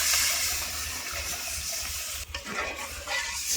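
Broth ladled into a simmering curry in a home kitchen, a steady liquid rush and bubbling that stays fairly loud throughout, with a brief dip and splash partway through.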